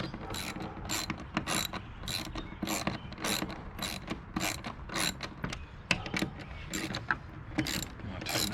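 A socket ratchet clicks in steady rapid strokes while snugging 10mm hex-head bolts on a Rough Country roof basket fitted to a Jeep JK, each burst of sharp pawl ticks close and even.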